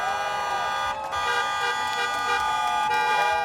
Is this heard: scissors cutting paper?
no